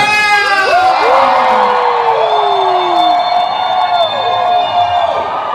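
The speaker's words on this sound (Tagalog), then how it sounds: "So isang mahabang hiyaw naman dyan!" A large crowd at a political rally in Hong Kong cheers and whoops together, with several long sustained shouts rising and falling over the noisy roar.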